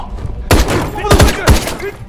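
Pistol gunshots in a kung fu film, three sharp loud reports roughly half a second apart, each followed by a short rumbling tail, with faint background sound before the first.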